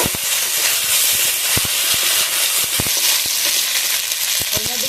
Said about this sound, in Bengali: এবার বেটে রাখা আদা রসুন আদা রসুনটা একটু ভেজে নেবো